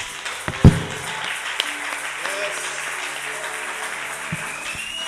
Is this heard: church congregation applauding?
yes